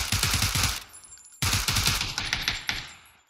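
Rapid automatic gunfire from a shooter video game: two loud, close bursts of fast shots, separated by a short break. No voices.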